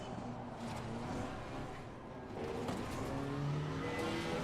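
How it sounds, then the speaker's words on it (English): GT3 race car engine in Assetto Corsa Competizione, heard onboard during a big-grid race at Barcelona, a steady close engine drone with gear shifts and other cars around, no talk over it. "Oh, that engine, it just sounds so good."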